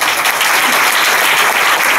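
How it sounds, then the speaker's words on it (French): Loud, dense applause from wedding guests greeting the groom, a close, continuous burst of many hands clapping with no pause over a couple of seconds. "On applaudit pour lui,"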